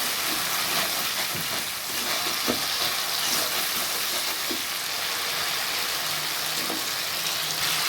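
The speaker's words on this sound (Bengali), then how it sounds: "পুরো মশলাটা আমি একটু নাড়াচাড়া করবো এইভাবে" Masala with Kashmiri chilli powder sizzles loudly in oil in a pan, a dense continuous frying hiss with faint scrapes and knocks as it is stirred.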